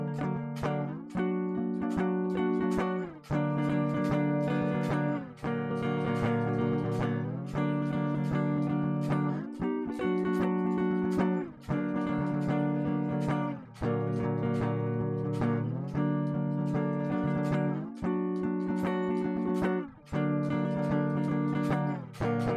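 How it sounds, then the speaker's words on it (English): Electric guitar strumming a series of four-string chords, each ringing clearly for about two seconds before the next strike, a steady sequence with no talking. "4-string chords, guys, that sound like this"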